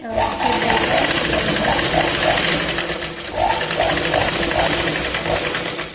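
A sewing machine stitches a katori blouse with a loud, fast, steady mechanical rattle. It runs in two long bursts split by a brief dip, close up, and a voice talks faintly underneath.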